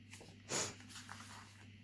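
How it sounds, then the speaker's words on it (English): A single sharp sneeze bursts out midway, loud and brief, against a quiet indoor room with a low steady hum and no talking. "I had to pause to sneeze."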